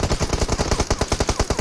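Rapid automatic gunfire from the video game PUBG Mobile rattles out in a fast, even burst of roughly a dozen loud, close shots, with no voices over it.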